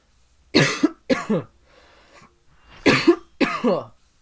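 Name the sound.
coughing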